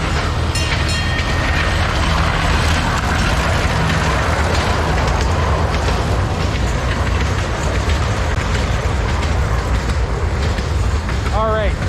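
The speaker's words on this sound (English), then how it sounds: "there comes that train again." A small park train at a zoo in Mérida, Mexico rumbles past nearby with a steady rolling clatter, and a brief whistle-like squeal sounds near the end.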